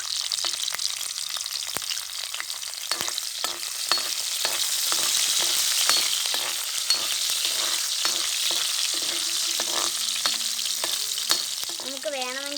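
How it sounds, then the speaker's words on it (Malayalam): Ginger and garlic frying in a pan, a steady bright sizzle with repeated scraping stir strokes, close and continuous, and a brief voice near the end. "ഇതിലേക്ക് നമ്മൾ ഇഞ്ചിയും വെളുത്തുള്ളിയും കൂടി ഇട്ട് കൊടുക്കുകയാണ്."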